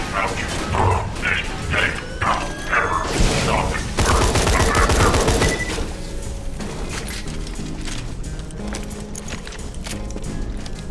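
Burst-fire rifle gunfire in Borderlands 2, several rapid clustered bursts of loud cracks in the first four seconds, followed by mechanical clatter and lighter sounds.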